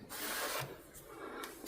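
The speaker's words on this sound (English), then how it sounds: "There's a little bit more to come down, but I'll get that with my sander." Steady abrasive rubbing of a power sander on wood during cottage carpentry work, a continuous close grinding texture with slight shifts in pressure.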